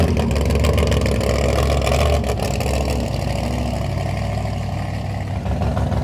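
A supercharged big block Chevy mud truck engine runs close and loud. It holds a rough, heavy, continuous rumble that stays steady and shifts slightly in pitch, with no talking over it.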